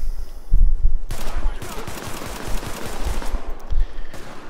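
Rapid enemy gunfire in The Division, a dense burst of automatic shots rattling on for several seconds with heavy low thumps, loud and close.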